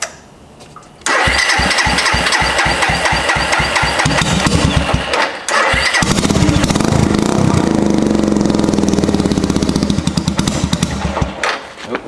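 A Suzuki GZ250 motorcycle, previously stolen, cranks with a rapid starter chatter, catches and revs, stumbles briefly, then settles into a loud, close, uneven low idle.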